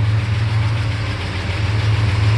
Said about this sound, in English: if we just take a quick walk around the truck while it's running, you can hear that it's idling very nicely